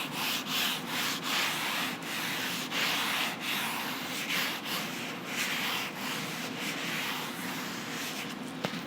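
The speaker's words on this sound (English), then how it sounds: "we're going to go ahead and grab our leather sanding pad here. It's lightly abrasive, not too bad, so we're just going to give it a very light sand" A lightly abrasive leather sanding pad rubs lightly over leather in quick repeated back-and-forth strokes, giving a soft, close, steady scratchy hiss with no talk.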